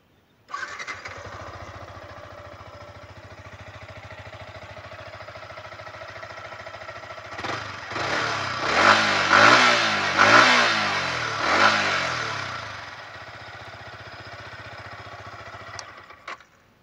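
A Yamaha R15 v4 sport motorcycle idles steadily up close, then its engine is blipped through several sharp revs that rise and fall before settling back to idle and cutting off.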